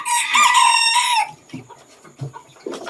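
A bantam rooster crows once, loud and close, its call lasting a little over a second, followed by quieter clucks and scattered soft knocks.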